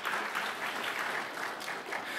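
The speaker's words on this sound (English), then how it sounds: "Let's clap their hands" Applause from the audience at an environmental science senior thesis poster session, a moderate room of people clapping steadily at an even level without voices on top.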